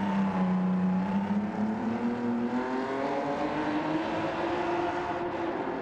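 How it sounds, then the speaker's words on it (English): A loud racing engine in Gran Turismo 7 roars steadily, its pitch climbing and shifting as it revs through gears, continuous and close with no voices. "that engine sound was ridiculous."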